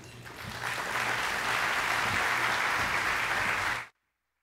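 An audience applauds to welcome speaker Jim Sporleder, steady dense clapping that swells, holds strongly for several seconds, then cuts off abruptly.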